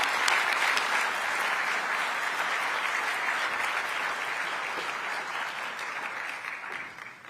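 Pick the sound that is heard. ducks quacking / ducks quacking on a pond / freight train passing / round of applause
round of applause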